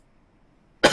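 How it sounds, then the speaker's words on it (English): Near silence, then a single sharp, loud cough bursts out close by at the very end. "why am I coughing so much now?"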